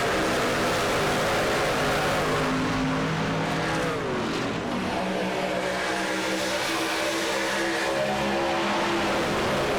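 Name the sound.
race trucks accelerating on a restart at Fontana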